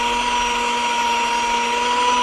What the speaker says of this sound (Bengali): বিটারের বিটটা স্পিড করে দিব